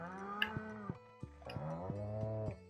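Cows on a Stardew Valley farm give several long, close, fairly loud moos in a row, one after another with short gaps and no talking.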